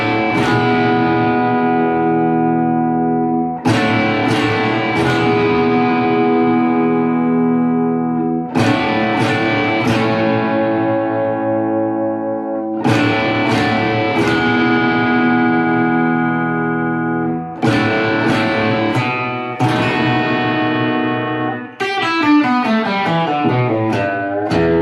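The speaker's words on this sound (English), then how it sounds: "that first chord, think of like distortion, these ringing power chords and stuff." Distorted electric guitar power chords from a 1950s song, loud and ringing with long sustain, struck about six times at steady intervals, each chord decaying before the next, then a quicker run of notes at the end.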